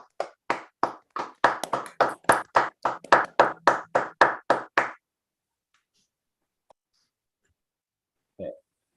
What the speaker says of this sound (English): Let's give Moritz some round of applause